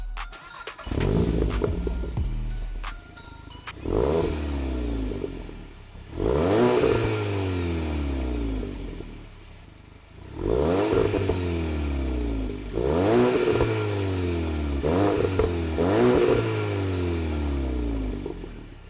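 Volkswagen MK8 GTI on its stock exhaust during a cold start: the engine fires, then gives several loud, close rev bursts rising and falling at steady intervals, with idle between them and no talking.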